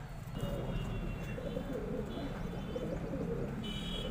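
Patiala and desi pigeons kept at a home loft give soft, low cooing that rolls continuously at close range amid a busy background murmur, with faint chirps from other birds.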